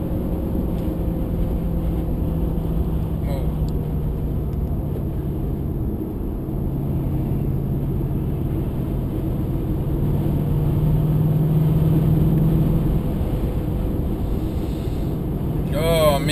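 An Audi S4 B6 with a V8 cruises on a highway, heard from inside as a steady low engine drone with road noise, with faint voice sounds at times.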